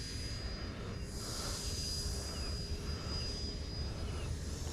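An FMS Rafale 80mm RC model jet roars steadily while taking off from a runway, its ducted-fan whine and rushing hiss constant and fairly distant, with no voices.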